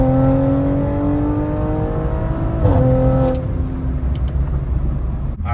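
Audi RS5 with a Stage 2 transmission tune accelerating hard from inside the cabin, engine tone climbing steadily through the revs, a quick gear shift, then pulling again, loud and close, with no talking.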